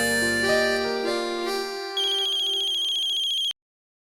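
A phone rings after a call is placed: a bright electronic ringtone melody of shifting tones, close and clear, stopping abruptly after about three and a half seconds with no talking.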